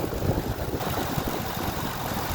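A twin-turbo Nissan 300ZX (Z32 Fairlady Z) engine idles steadily with a low, even rumble close by and no talking.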